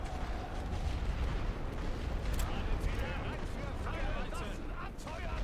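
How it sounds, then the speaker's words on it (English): Artillery fire in The Great War: Western Front game, a dense rumbling barrage of low booms and crackling impacts rolling continuously at moderate volume, mixed with game clatter. "And I'm hitting myself with artillery."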